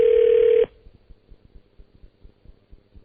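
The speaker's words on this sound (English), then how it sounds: "I'm getting dial tone up." A steady electronic telephone tone sounds briefly and then stops, followed by faint, regular clicking.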